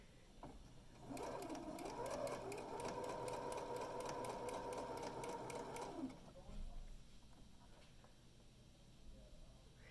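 A sewing machine stitches a drawstring bag in a steady, fast, whirring burst of about five seconds, starting and stopping abruptly, while a voice talks over the room.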